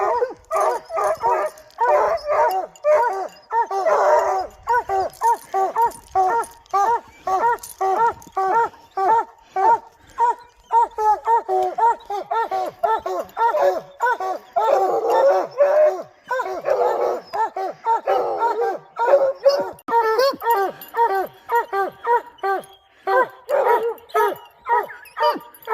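Several dogs bark, yip and whimper almost nonstop in a dense, rhythmic chorus, loud and close, with a few howl-like tones woven through and a voice faintly underneath.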